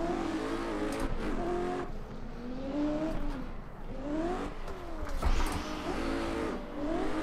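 A car drifts in a reverse entry into turn one at Irwindale, engine revving and bouncing through rising and falling pitch sweeps with tire noise, loud and close for the whole stretch with no talking.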